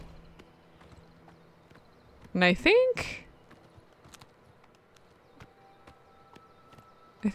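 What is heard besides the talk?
horse hooves, riding in Oblivion Remastered video game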